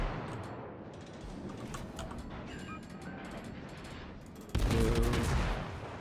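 In a naval combat video game, the ship takes incoming fire as rapid bursts of gunfire and impacts crackle at moderate distance, building to a loud, sudden barrage of heavy hits near the end.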